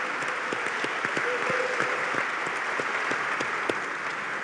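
An audience applauds Senator Carlos Cantero at the closing of a future-themed congress, a dense, steady round of clapping from a sizable crowd, fairly close and continuing throughout without pause.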